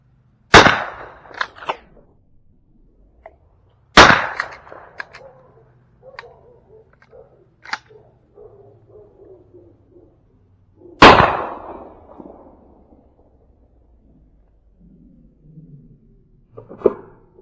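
Three sharp, loud gunshots ring out outdoors during shotgun pattern testing, spaced several seconds apart, each with a short echoing tail, and faint clicks and handling noises fall between them.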